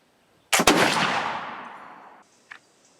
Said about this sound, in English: we're going to fire at 50 yards and see how we do